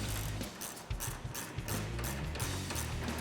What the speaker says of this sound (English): we're gonna use a 10mm to tighten those up